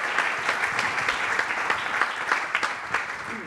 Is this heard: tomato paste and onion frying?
no